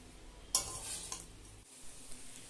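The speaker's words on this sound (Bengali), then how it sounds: "এই সময়ে অবশ্যই গ্যাসের ফ্লেমটা একদম লোতে রেখে আলু সোয়াবিনগুলোকে কষিয়ে নিতে হবে" Potato and soya chunks being stir-fried in spice gravy over a low gas flame, with one sharp scrape of utensil against pan followed by a soft, steady sizzle and faint stirring.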